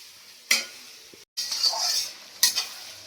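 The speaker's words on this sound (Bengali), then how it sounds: "এবার আমি ভালো করে নেড়ে নেবো," Onions are stirred and fried in a kadai for a chicken curry: bursts of sizzling and scraping swell with each stir of the spatula, separated by quieter frying and a brief gap of silence.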